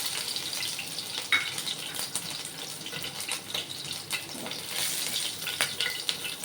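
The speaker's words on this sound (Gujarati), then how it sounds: "તો ચાલો આપણું તેલ તપી ગયું છે તેમાં આપણે સૌપ્રથમ મરચાં એડ કરીશું" Green chillies dropped into hot oil crackle and sizzle in a steady, close frying hiss with scattered sharper pops, no voices over it.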